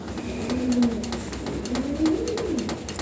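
Lahore and racer breed pigeons cooing close by in a steady, low, rolling rhythm, a couple of drawn-out coos rising over faint background rustle, with no talk.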